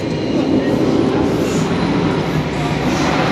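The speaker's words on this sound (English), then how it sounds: "how loud those trains going past are" A train rumbles past continuously and loudly nearby, with a dense, steady roar and clatter of rail cars filling the whole stretch, heard from a moored boat on the Norfolk Broads.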